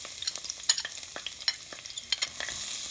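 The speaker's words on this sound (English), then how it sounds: "We're just sauteing our garlic here" Garlic sautés in a pan, with a light sizzle under frequent short scrapes and clicks of stirring, close and fairly quiet.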